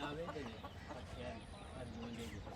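Hens murmur and cluck softly and faintly, a few quiet calls over low background noise.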